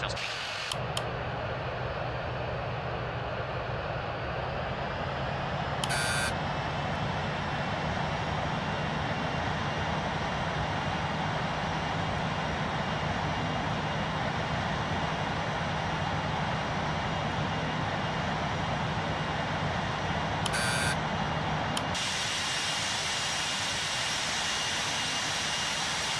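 British Airways Airbus A380 jet engines on the takeoff roll, a loud, steady broadband roar heard from inside the cabin that holds constant for the whole stretch, with brief clicks and chimes near the start and near the end.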